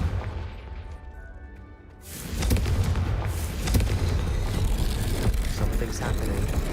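A Confringo blasting spell explodes in Hogwarts Legacy, a sudden loud burst about two seconds in that gives way to a sustained, heavy rumbling roar lasting to the end.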